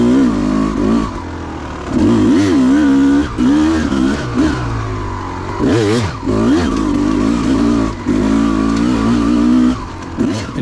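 A 2004 Kawasaki KX250 two-stroke dirt bike rides a mountain trail, its loud, close engine revving up and down in repeated surges with a buzzing, raspy tone.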